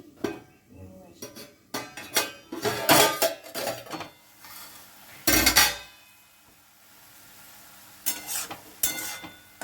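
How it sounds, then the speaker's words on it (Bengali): A lid lifted off a cooking pot of flat beans and drumstick flowers, with a run of metallic clanks and clinks, one loud clatter midway, and a faint sizzle between the knocks. "এবারে ঢাকাটা আমি খুলে একটু দেখি।"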